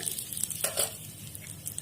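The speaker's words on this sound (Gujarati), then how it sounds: "ત્યારબાદ આપણે હિંગ નાખીશું" Asafoetida dropped into hot oil in a small ladle for tempering jowar idli batter gives a faint, brief sizzle with a soft hiss and a few light crackles, heard close and without speech.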